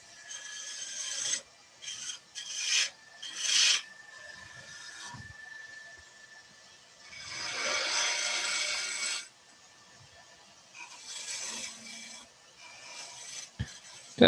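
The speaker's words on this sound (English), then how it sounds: "Take a little bit more off. Nice shavings coming off. We've almost got a goblet there, Mike." A wood lathe turns a goblet as the gouge cuts, throwing off shavings. The bursts of raspy, hissing cutting come close and fairly loud, some short and some sustained for a couple of seconds, with quiet pauses between and no voices.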